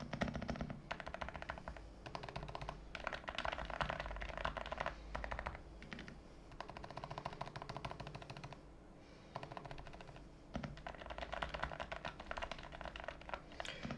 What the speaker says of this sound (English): I'm gonna get as close as I can to the keyboard with my camera and press some keys.